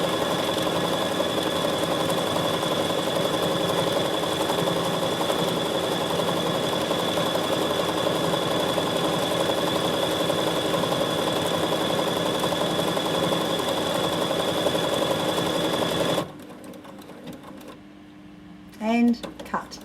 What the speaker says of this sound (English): So this time I'm going to try and sew straight by watching this left hand side.